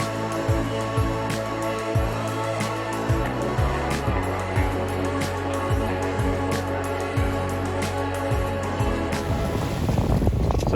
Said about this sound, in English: So we've come out the harbour, we have the sails up.